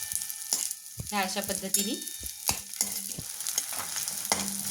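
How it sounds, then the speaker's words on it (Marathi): Edible gum (dink) frying in ghee, a steady sizzle and crackle as it puffs, with stirring clinks and a voice talking briefly over it. "डिंक आपल्याला छान भाजून घ्यायचा आहे तुपामध्ये"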